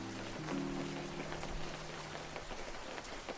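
Steady rain falls in a fishing video game, a dense even patter that fills the whole stretch with no pauses, moderately loud, while a low sustained tone of in-game music plays underneath at the start.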